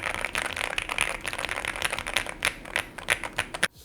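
Rapid typing on a Qwertykeys QK65 mechanical keyboard, close and crisp with dense clacking keystrokes that thin into a few spaced, sharper presses near the end.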